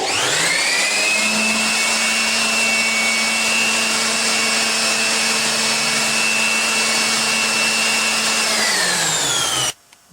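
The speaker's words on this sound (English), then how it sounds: "The air from the blower holds the ball in air." An electric air blower runs loud and steady while holding a ball aloft in a Bernoulli demonstration, a constant close whine that cuts off abruptly near the end.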